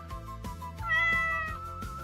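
Several cats meow in quick succession, clear close-up calls overlapping one another in a short burst with no talk.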